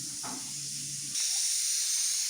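Mustard seeds spluttering in hot oil in a pan: a steady close sizzling hiss that grows louder partway through, with no talk.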